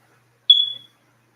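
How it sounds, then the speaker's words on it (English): A single short smoke alarm chirp, clear and fairly loud, sounding for about a third of a second against near silence. "The smoke alarm says it makes sense"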